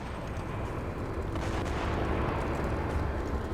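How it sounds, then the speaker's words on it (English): Rumbling game gunfire and a blast in Mass Effect 2, a dense, continuous roar of shots and explosion noise filling the short stretch at steady loudness, with no talk over it. "There was some gunfire and an explosion right before I lost her."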